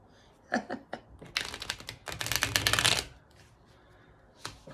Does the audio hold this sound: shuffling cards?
yes